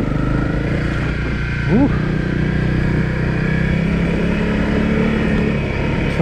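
A Honda CRF250L motorcycle riding along a rural road, its engine a continuous steady drone with wind rumble throughout, and a brief rising exclamation from the rider partway through.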